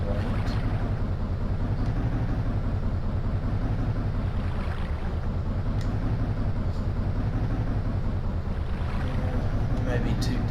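A fishing boat's motor in the SNES bass-fishing game Bassin's Black Bass, a steady low rumbling engine drone with wash, running continuously at even loudness with no talk.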